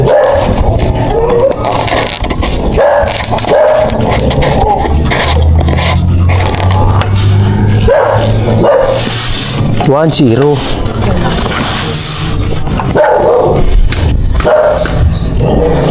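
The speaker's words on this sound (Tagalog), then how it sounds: "Galit sa'yo yung aso." A dog barks in short intermittent bursts around a street-light installation job in Lansonesan, heard under ongoing talk, scraping and work noise.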